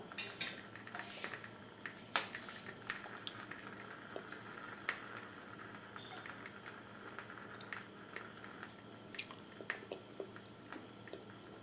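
Soft crackling and light sizzling as oil heats in a hot pan, with scattered faint pops and ticks over a steady background hiss, no voices.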